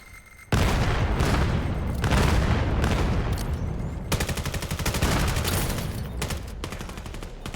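Rapid gunfire from the VR shooter Vail VR during a competitive 5v5 match, with dense bursts of automatic shots and sharp cracks running almost continuously and loud after a brief quiet start.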